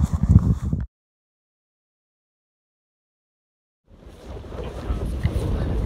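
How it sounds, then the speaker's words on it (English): Wind buffets loudly against the microphone on a trail in the Smoky Mountains, then drops to silence for a few seconds before gusting noise returns and builds. "Really windy, don't know if you guys can hear me"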